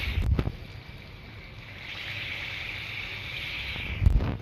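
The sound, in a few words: mango fritters frying in hot oil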